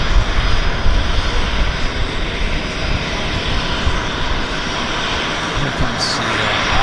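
An Alaska Airlines jet passes at Vancouver Airport on a windy day, its engine roar loud and steady throughout, with gusting wind noise mixed in and no talk.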